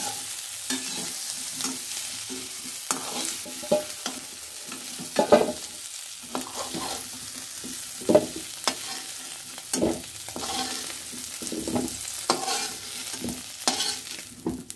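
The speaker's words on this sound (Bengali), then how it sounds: "আলুগুলো সুন্দর ভাজা হয়ে গেছে, এবার তুলে নিচ্ছি" Small new potatoes fry in a wok with a continuous bubbling sizzle, while repeated scraping stirs and lifts clatter at irregular intervals, close and without any talk.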